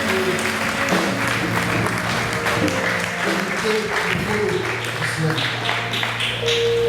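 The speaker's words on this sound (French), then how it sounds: "Est-ce que nous pouvons acclamer très fort le Seigneur" Congregation at a priestly ordination ceremony applauding and cheering, a steady wash of clapping with voices and music mixed in, loud and sustained throughout.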